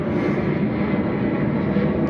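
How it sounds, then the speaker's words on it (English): Aeroplane passing overhead outdoors, a steady broad roar that stays loud and even throughout with no voices over it. "I can hear aeroplane, so just bear with the sound for a moment"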